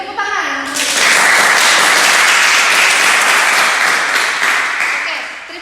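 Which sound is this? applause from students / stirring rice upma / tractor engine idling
applause from students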